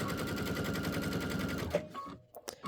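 A domestic sewing machine runs a short back stitch while piecing a fabric table runner, giving a fast, even mechanical rattle that stops abruptly, then a few light clicks and handling noises.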